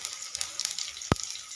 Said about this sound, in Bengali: এবার ফোড়নে আমি জিরে দিয়ে দিলাম।